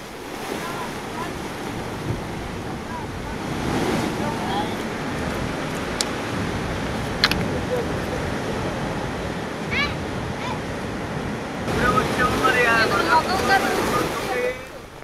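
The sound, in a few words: high sea waves at Uppada during Cyclone Fengal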